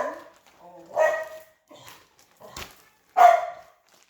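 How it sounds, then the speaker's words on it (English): A dog barks in short, separate bursts outside a condo, a few yelps spread over several seconds, moderately loud against a quiet background. "And then the rabbit is jumping and the dog is barking."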